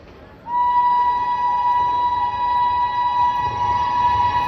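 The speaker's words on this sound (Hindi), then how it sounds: "बड़ी स्पीड में है, अपनी 1:30 की रफ्तार में है पूरी। नई दिल्ली रांची राजधानी एक्सप्रेस।" The New Delhi–Ranchi Rajdhani Express rushes past at high speed, sounding a loud, sustained, steady horn tone that starts abruptly and holds for several seconds over rumbling noise.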